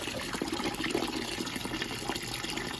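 Water drains steadily out of a Burnham gas-fired steam boiler that was overfilled, a continuous close gushing and splashing with no talk.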